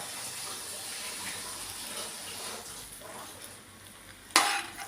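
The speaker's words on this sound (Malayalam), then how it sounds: "അത് ഇതിലോട്ട് ഇട്ട് നന്നായിട്ട് ഇളക്കിയെടുക്കാം" Cooked kaima rice is stirred into tomato masala in a pan, a soft continuous scraping and sizzle with one sharp clank of the spoon against the pan toward the end.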